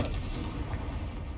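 A Confringo blasting spell goes off in a Harry Potter–style wizard video game, a dense rumbling boom that fills the whole moment, loud and close, with no voices over it.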